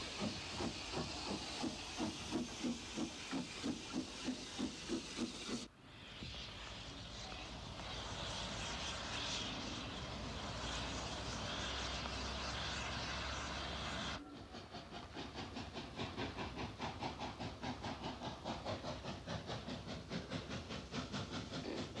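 Preserved steam locomotive number 191 on a heritage railway hisses and chuffs, a rhythmic exhaust beat giving way to a steady loud hiss of escaping steam before the puffing resumes, with no voices.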